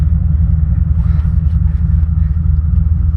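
A turbo LSX-swapped RX7 car driving, a loud, deep, rumbling engine drone with a steady low throb and no talk.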